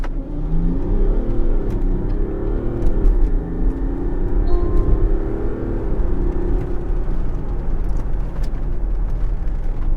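A 2026 Range Rover HSE 3.0 diesel SUV launches at full throttle, its engine droning loud and steady from inside the cabin as it pulls hard for the whole stretch, with rising tones and no talk.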